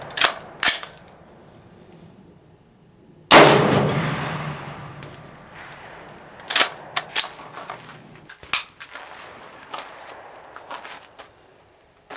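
Loud gunshots from a 300 AAC Blackout 8.5-inch pistol loaded with IMR4227 powder. One big crack with a ringing tail is followed by several quicker, sharper reports, with faint handling clicks between them and no talk.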